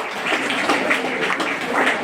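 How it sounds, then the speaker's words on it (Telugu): An audience at a live public event on AIDS awareness gives a short, steady round of applause, a dense wash of clapping at moderate distance. "Give a good clap for him."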